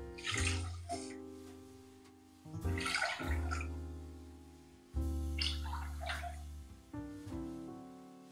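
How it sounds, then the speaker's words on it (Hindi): Three cups of water are poured into a pan of rice in a kitchen, in three separate splashing pours of about two seconds each with short pauses between, close and fairly clear. "तीन कप पानी डाल देंगे।"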